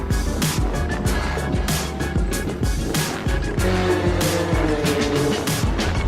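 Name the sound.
racing go-karts on the Laguna Seca road race track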